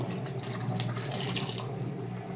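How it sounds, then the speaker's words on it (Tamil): Water runs in a steady, continuous stream, splashing and gurgling as it pours into a pot of bottle gourd and raw mango kuzhambu. "இது கூட தேவையான அளவுக்கு கொஞ்சம் தண்ணி சேர்த்துக்கலாங்க"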